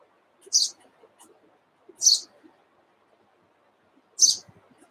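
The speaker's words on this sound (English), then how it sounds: "There are a lot of sparrows here, so you must be hearing the chirping of sparrows or the birds." Three sharp, high chirps from sparrows, spaced a second or two apart, with faint rustling in between.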